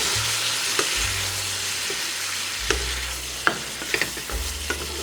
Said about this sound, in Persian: همین تفت مختصر برای اینکه شویدمون عطرش آزاد بشه و کاملا به خورده هم برن کافیه